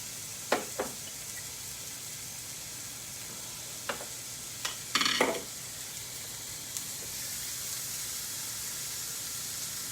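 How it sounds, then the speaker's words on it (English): Steady frying sizzle of a burger patty in a hot pan, with a few sharp pops and crackles scattered over the constant hiss. "Ooh, hear the sizzle?"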